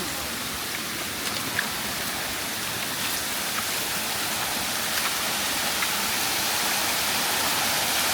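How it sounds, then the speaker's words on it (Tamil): A small waterfall at Sadasiva Kona temple pours in a dense, steady rushing hiss, loud and continuous throughout with no voices. "அப்படியே நீங்கள் நடந்து போகும்போது இந்த வாட்டர் ஃபால்ஸ் எல்லாம் வருதுங்க."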